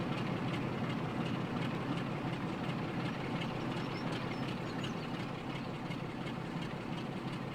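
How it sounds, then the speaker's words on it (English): Train on the West Somerset Railway in Train Sim World, a continuous steady rumble of rolling wheels and engine drone at even loudness throughout, with no talking. "the train that's just gone out this way from over here"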